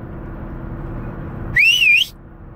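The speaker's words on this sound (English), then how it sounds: "I'm talking about whistling like your dog's in trouble, like this" A single loud, sharp whistle, made to call a dog, with a warbling rising pitch cuts in after a faint background hush, lasting about half a second.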